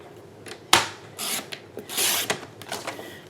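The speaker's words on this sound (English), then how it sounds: "I'm gonna bring in my Stampin' trimmer. I'm gonna cut this down to" A Stampin' Up paper trimmer slices through cardstock in a few short scraping swipes and rasps, close and crisp, with small clicks between strokes.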